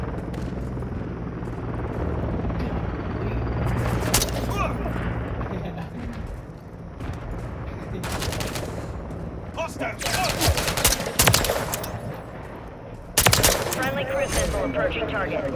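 Automatic gunfire in the Modern Warfare 3 shooter game, loud bursts breaking out in several clusters over a constant rotor-like rumble, with someone talking between the volleys.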